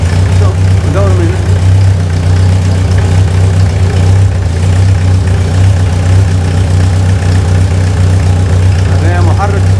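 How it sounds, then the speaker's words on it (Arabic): A Renault R19 diesel engine sits out of the car on the ground and idles, a loud steady low rumble that runs continuously throughout, with occasional voices over it. "هذا محرك ديزل يشتغل على الارض خارج سيارته، صوته ممتاز"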